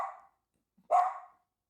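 A single sharp dog bark close by, preceded by a softer vocal sound, then quiet.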